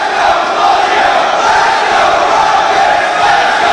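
A wrestling event crowd roars and cheers continuously, a loud, dense wall of voices filling the arena without letup for the whole stretch.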